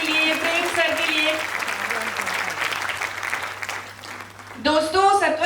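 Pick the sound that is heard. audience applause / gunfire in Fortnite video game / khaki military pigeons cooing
audience applause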